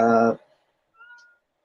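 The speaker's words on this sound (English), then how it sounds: "I've got to deal with my cat, because she won't stop meowing" A short, harmonic meow from a domestic cat opens loudly, followed by a fainter, thinner mew after a brief pause.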